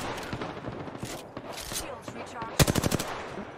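Automatic gunfire in the Apex Legends battle royale game, scattered shots early then a loud rapid burst near the end, with a player talking over it.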